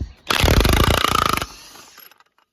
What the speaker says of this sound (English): that's what I love about impacts. My gosh, they work good.